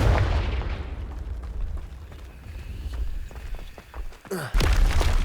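A Confringo fire spell explodes in Hogwarts Legacy, a heavy booming blast at the start followed by rumbling, debris crackle, a whooshing sweep and another loud burst near the end.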